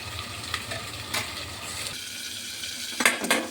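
Pointed gourd sizzling softly in a pan as it is stirred, a few scrapes and clatters, then a short muffled stretch and a clattering lid being set on top at the end.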